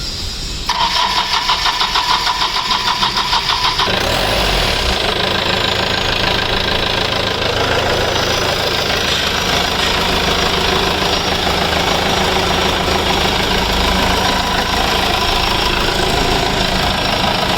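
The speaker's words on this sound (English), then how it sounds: "So you can just check the engine is in running condition." A Mahindra Bolero 4x4 diesel turbo engine cranks and fires up, then settles into a loud, steady, knocking idle close by, with a rough mechanical clatter throughout.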